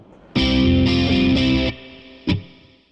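Distorted electric guitar power chords played through effects, three sustained heavy chords in a steady rhythm followed by a short sharp stab, loud and alone with no voices, building toward a forceful chorus section of a Thai rock song.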